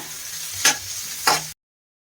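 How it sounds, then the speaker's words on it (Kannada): Onions with salt frying in a pan for a simple chicken gravy, a soft steady sizzle broken by two brief scraping stirs, close and fairly quiet, ending abruptly. "ಈರುಳ್ಳಿ ಇವಾಗ ಚೆನ್ನಾಗಿ ಫ್ರೈ ಮಾಡ್ಕೊಳ್ಳೋಣ"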